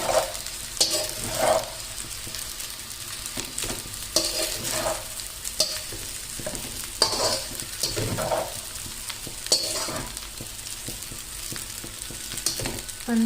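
Egg fried rice stir-fried with soy sauce in a hot pan, a steady sizzle broken by repeated scraping and tossing strokes at close range, with no voices.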